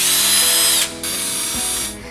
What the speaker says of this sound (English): Start by drilling 8 to 10 holes about 1 to 2 inches apart in the bottom of the bin